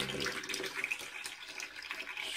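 Water running from a sink tap while mixing liquid soap and water to clean a telescope mirror, a steady close hiss of flowing water throughout.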